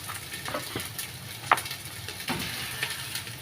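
Onions frying in a pan give a steady soft crackling sizzle with light stirring scrapes and one sharp tick midway, moderately close and unaccompanied by talk.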